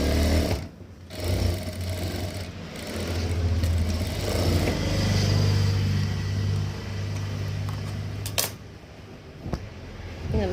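A sewing machine stitching a seam on a V-neck kurti, running in a steady whirring hum with short pauses and a few clicks, close and with no talk.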